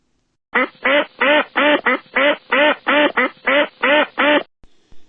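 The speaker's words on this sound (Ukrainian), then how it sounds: "А як кличе качка своїх каченят? Слухайте." A duck quacks about a dozen times in a quick, even series of loud, close calls, then stops.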